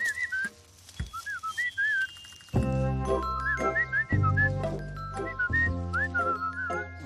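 Someone whistles a bouncy melody in short phrases, close and clear, over a bright musical backing with chiming notes and low tones.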